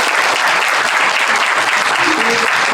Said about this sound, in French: On peut leur donner une nouvelle applaudissement.